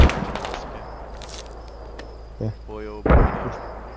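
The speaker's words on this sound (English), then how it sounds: "I hear gunshots in the middle." Gunfire and explosions from the military shooter video game Squad: scattered distant reports and a couple of heavier booming blasts, with a brief spoken word and radio-style chatter in the mix.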